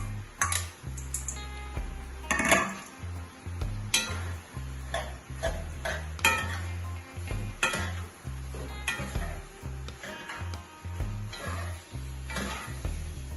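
Pasta being stirred into jerk seasonings and Scotch bonnet pepper in a pan, faint repeated scraping and clinking of a utensil against the pan over a low sizzle, with no talking.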